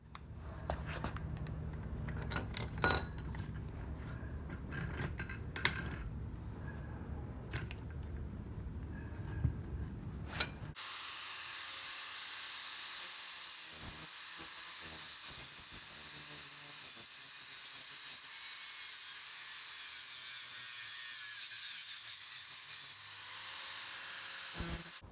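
Metal being cut for a radiator mount on a 1994 Honda Accord, a harsh hissing grind of a power tool with sharp clanks, then a shift to a steady high whining rasp that runs on to the end.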